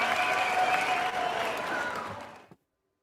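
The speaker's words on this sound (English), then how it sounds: "I'm applauding" Hands clap in sustained applause for about two and a half seconds, fairly dense and steady, before it stops abruptly into silence.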